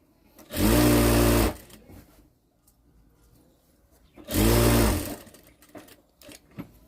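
A domestic sewing machine stitches the side cut of a Punjabi dress in two loud, steady bursts of about a second each, with quiet gaps of handling noise between runs.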